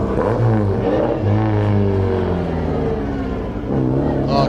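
A yellow GT car roars up a hillclimb course at the Legend of the Lakes event, its engine droning loud and continuous with rising and falling revs as it climbs.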